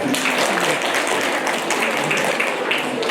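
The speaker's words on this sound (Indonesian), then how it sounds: "Kita mengirimkan Bapak Gubernur untuk kembali ke Kupang dengan tepuk tangan yang meriah." An audience at a school education event honouring a visiting provincial governor in Ende, Indonesia, gives a steady wash of fairly faint, even clapping throughout.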